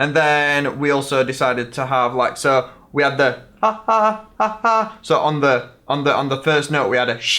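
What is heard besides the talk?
No everyday noise stands out behind the speech.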